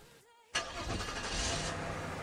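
A car engine starts up: a faint electronic chirp, a brief near-silent gap, then a sudden crank that catches into a loud, steady running engine close by.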